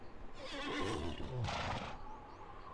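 A horse in the video game Zoo Tycoon gives a loud, close whinny, a quavering call in two surges that fades out after about two seconds.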